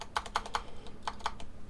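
A backspace key pressed on a computer keyboard while editing in a 3D modelling program produces a quick series of about eight crisp, close key clicks in two short bursts, with no talking.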